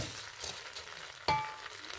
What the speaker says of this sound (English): and then we'll just keep stirring it until the semiya go brown